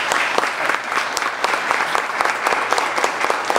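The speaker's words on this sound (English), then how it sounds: "I know we've got a lot of pent-up applause." Steady, dense applause from an audience at a city council candidates forum, many hands clapping close and continuously for a candidate, with no talking over it.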